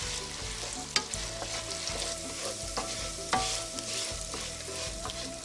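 Rice being lightly browned over a medium flame sizzles steadily in a pan, with occasional scraping stir strokes and a couple of sharper knocks, close-up and without speech.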